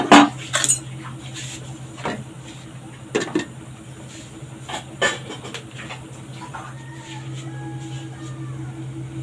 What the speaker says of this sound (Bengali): এবার ঢাকা দিয়ে 5 মিনিট হতে দিই